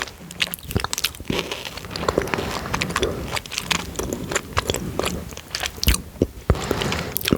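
Chewy cola bottle sweets being chewed close to the mic in ASMR style, wet sticky biting and mastication sounds repeating steadily throughout with occasional crunchy clicks, no talking.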